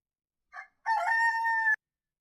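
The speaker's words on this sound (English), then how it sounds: "Chicken sound. Chicken cluck." A World of Warcraft in-game chicken sound: a short clucking note followed by a longer, drawn-out crowing call, clear and alone with no talk.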